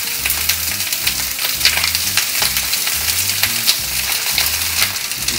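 Chicken legs frying in a hot pan with butter foaming, a steady dense sizzle with crackling pops and occasional stirring scrapes, close and continuous with no talking.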